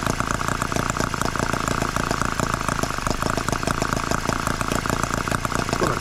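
A Microcosm H74 model engine runs steadily after a piston ring replacement, giving a loud, continuous buzzing drone with a fast, even rhythm and no voices over it.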